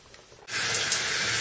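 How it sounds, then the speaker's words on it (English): A shower is switched on partway through, a sudden burst into a steady, close hiss of spraying water that continues unbroken after a quiet start. "There's the water running"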